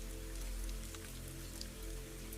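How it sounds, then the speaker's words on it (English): Steady rain falls outside a glass greenhouse, a dense even patter with scattered droplet ticks and a low constant rumble underneath, no voices. "Outside, the rain deepens slightly."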